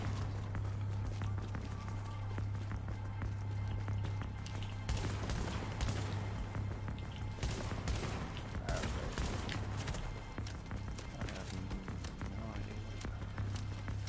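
Rapid bursts of gunfire from the video game The Division crackle almost nonstop over a steady low hum, with a voice faintly present.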